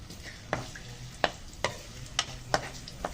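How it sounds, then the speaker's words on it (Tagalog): Ginger sizzles in hot cooking oil in a pan while a utensil stirs it, a steady close hiss broken by about six sharp scraping strokes at a roughly even pace. "mga init na itong mantika ko. Lagyan na po natin itong ginger."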